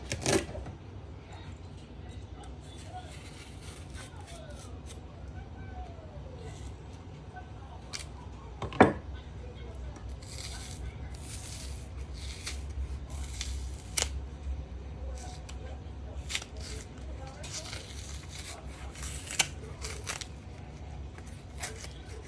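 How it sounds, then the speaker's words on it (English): A cooked plantain is peeled by hand for an eggplant sauce, giving scattered close scraping, snipping and tearing sounds over a low background hum, with a sharper snap midway and no talking. "It's time to peel up the plantain."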